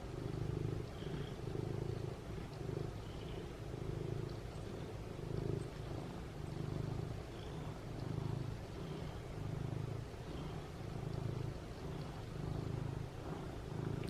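A large male house cat purring close by, a steady low rumbling purr that swells and fades in regular breathing cycles for the whole stretch, with no talking.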